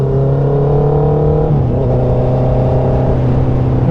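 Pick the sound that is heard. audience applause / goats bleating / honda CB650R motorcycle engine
honda CB650R motorcycle engine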